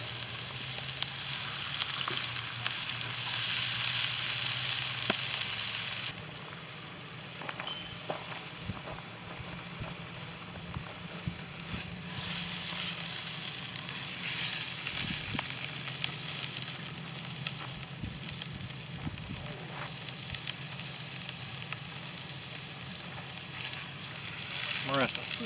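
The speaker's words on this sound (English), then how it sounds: "So there's one side of it seared." Meat sears in a pan over a campfire at a campground, a steady sizzle and hiss running throughout with occasional clinks and handling noises, while people talk intermittently nearby.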